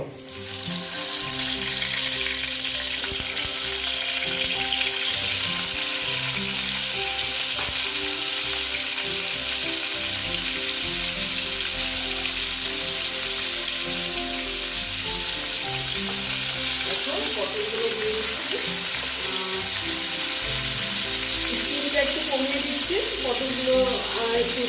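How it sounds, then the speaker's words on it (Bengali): Pointed gourd (potol) frying in hot white oil, a steady dense sizzle that runs throughout, close and loud, with occasional light stirring. "তেলটা প্রায় গরম হয়ে আসছে আমি পটলগুলো দিয়ে দিচ্ছি"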